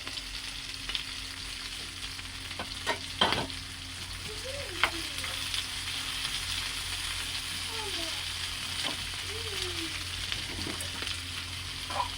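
Chopped onions with green and ripe chillies sizzle in a pan with a steady, close hiss, broken by a few light clacks of a utensil and a faint voice underneath.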